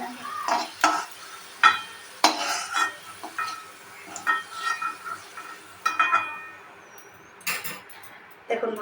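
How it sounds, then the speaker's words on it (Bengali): Potato pieces fry in oil in a pan as a utensil stirs and scrapes, giving irregular clinks and scrapes over a soft sizzle, close by and moderately loud. "আলুটা রেডেস্ট করে ফ্রাই হয়ে গেছে"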